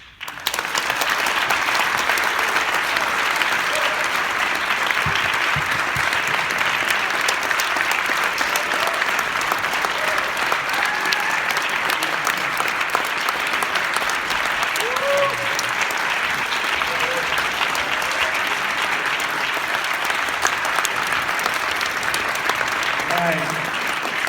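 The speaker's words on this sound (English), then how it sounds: "One more round of applause, please" An audience applauds after a theatre performance, with dense, sustained clapping filling the room at a steady level for over twenty seconds and a few scattered voices underneath.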